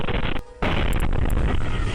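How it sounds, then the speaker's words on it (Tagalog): Heavy firecracker blasts in a Zamboanga City neighborhood, a loud continuous roar of explosions with a brief dip before the booming resumes, dense and close. "Malakas na pagsabog ng mga paputok na animoy may lindol."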